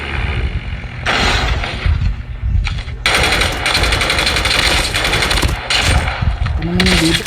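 Rapid bursts of automatic gunfire in the mobile shooter game Call of Duty Mobile crackle loudly in dense volleys, pausing briefly between strings of shots, with game effects mixed in.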